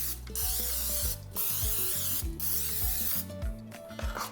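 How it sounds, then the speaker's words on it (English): Cooking spray hissing onto a cake pan lined with a parchment round, in several short close bursts separated by brief pauses, with faint rubbing and handling noises between sprays. "then I will spray again."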